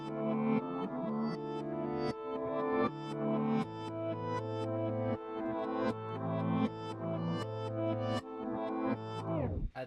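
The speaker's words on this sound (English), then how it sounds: "When I'm flipping samples, the first thing I'll do is slow it down, and then right after that I'll reverse it" A slowed, reversed musical sample plays, its notes swelling backwards into abrupt cutoffs in a steady loop, with a downward swoop at the end.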